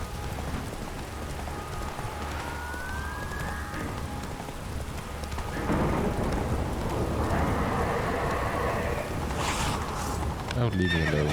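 Roach the horse in The Witcher 3 neighs and clip-clops on hooves amid rain ambience, with a louder whinny and shuffling near the end.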